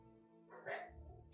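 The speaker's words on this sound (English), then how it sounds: "My roommate's dogs are barking" A roommate's dogs barking in another room, a short muffled burst of one or two barks rising briefly over a quiet background, fairly faint and distant.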